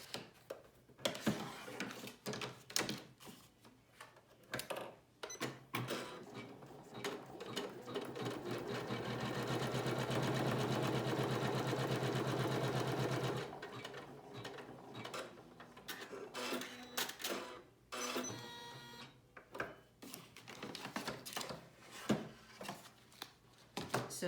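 An embroidery machine stitches spinwheel quilt pieces. Rapid needle chatter arrives in short bursts, builds to a long continuous run, then breaks off into stop-start stitching with clicks and pauses.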